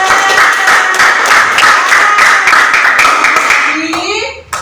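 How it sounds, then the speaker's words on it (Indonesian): A classroom of fifth-grade children claps steadily for a student group, dense continuous applause that trails off near the end, with a voice rising briefly as it fades. "Tepuk tangan buat Arinda, kelompok 3."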